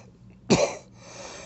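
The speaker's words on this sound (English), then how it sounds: "Excuse the coughing." A single sharp, close cough from a man with congestive heart failure, brief and alone against quiet room background.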